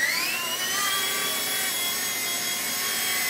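Small mSR X RC helicopter rotor whirring indoors as a steady high-pitched buzz, continuous and fairly close, with no talking.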